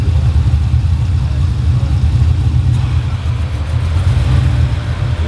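1987 Chevy Caprice LS with a 6.0 engine, its air conditioning running with the motor: a loud steady low rumble and hum throughout, close and unbroken.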